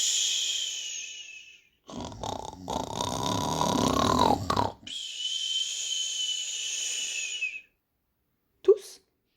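Sleeping animals in a children's folk tale snoring loudly, a sequence of hissing, wheezing and rumbling snores and snorts, likely imitated by voices, separated by pauses and ending with a short burst.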